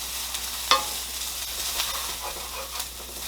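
Butter sizzling in a hot pan of rotini noodles with spinach, a steady soft frying hiss with a sharp clink near the start and brief crackles, no talking.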